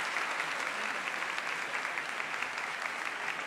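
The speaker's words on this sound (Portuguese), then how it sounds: "Uma salva de palmas para ele" A Catholic congregation applauds a newly baptized man during a Sunday Mass, producing an even, sustained patter of many hands clapping throughout, moderately distant with no speech on top.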